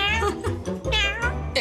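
A woman playfully imitates a cat with a few drawn-out, wavering meows at a dinner party, close and clear, with other voices chattering underneath.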